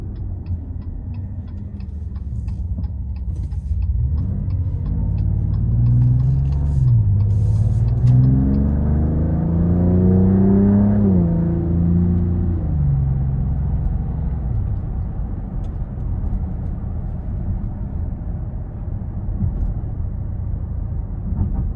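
A 2026 Dodge Charger Scat Pack Plus accelerates hard up an interstate on-ramp, its engine note heard from inside the cabin rising through a long steady pull, loud and continuous with no talking.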